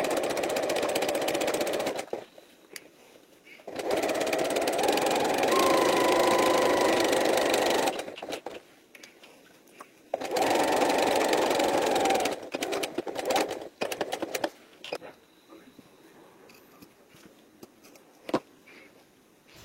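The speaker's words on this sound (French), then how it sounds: "Repiquez à l'aide d'un point zigzag pour éviter que votre poche ne s'effiloche." A sewing machine runs a zigzag stitch along a zippered patch pocket on a belt bag, in two long continuous bursts of motor whir separated by pauses and some small handling noises.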